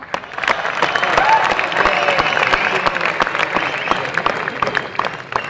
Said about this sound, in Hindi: कृपया तालियों के बीच में स्वागत कीजिए श्री दिनेश बावरा जी का